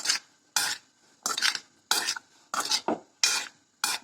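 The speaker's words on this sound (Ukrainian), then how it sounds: "Тепер нам це все треба перемішати, щоб всі з'єднались з овочами" Salted vegetable salad tossed in a bowl, seven distinct rustling, scraping bursts in an uneven rhythm with short silent gaps between them, close and clear with no voices.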